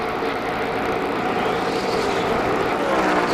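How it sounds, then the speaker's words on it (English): The 97 NASCAR stock car running low on fuel near the finish of the 2003 GFS Marketplace 400, a continuous loud engine roar with broadband race noise, steady throughout with no voices. "That engine is still running, that 97 car, folks. You can hear it."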